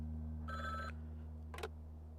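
A telephone in the Frog Detective 3 video game rings in two short bursts, the first longer and clearer, the second brief, over a low steady hum, fairly faint and alone.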